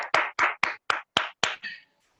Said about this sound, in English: we should all give him a round of applause